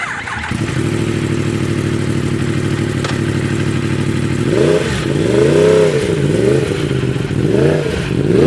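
A 2018 Yamaha YZF R1M superbike fitted with a loud SBK aftermarket exhaust idles steadily up close, then blips its throttle in several sharp revs that rise and fall, loud and with no talk over it.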